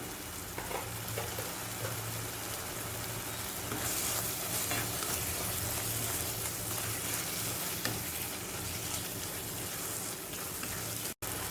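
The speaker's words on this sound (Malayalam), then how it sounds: "ഗ്രേവി ഒന്ന് നന്നായിട്ടൊന്ന് വഴന്നു വരട്ടെ" A Kerala-style tomato gravy hisses and bubbles in a pan for a long, even stretch, stirred now and then with soft scrapes. The sound is moderately quiet and has no talk.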